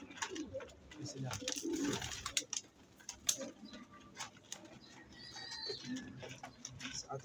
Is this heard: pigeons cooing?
yes